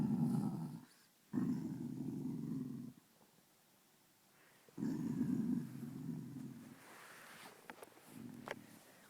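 A low, rumbling growl from a Bassador puppy comes in long sustained bursts with short pauses between, close and fairly quiet, with a brief faint noise near the end.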